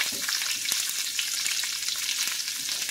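Onion frying in a pan for Southern fried cabbage gives a loud, even hiss with scattered sharp pops and crackles close by.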